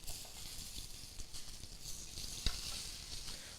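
A rack of lamb searing in a hot pan, giving a steady close hiss and crackle with one sharp tap partway through.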